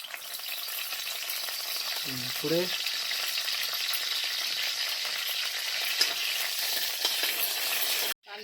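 Onions fry steadily in hot oil for a Malvani clam dish, a continuous broadband sizzle with a brief stir around two seconds in, close and even throughout with no one talking.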